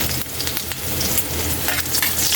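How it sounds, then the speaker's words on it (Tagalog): Garlic sautéing in hot oil for a fish adobo, a loud, close, crackling sizzle with stirring throughout. "gigisa na natin yung sangkap natin unahin natin si bawang"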